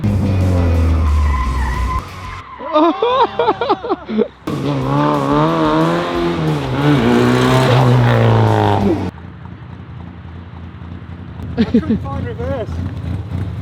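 A London taxi launches hard off the line, tyres squealing and the engine revving loudly in a rising, straining burst, close and intense, with brief gaps and a last short squeal near the end.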